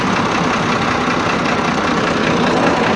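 Massey tractor engine running near a newly bored tubewell, a loud, steady, close diesel rumble with a continuous knocking throb and no talk.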